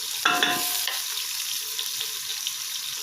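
Chopped onions, green chillies and kasuri methi hit hot oil for a chicken pulao, with a sharp sizzling burst at the start that settles into a steady, close frying hiss.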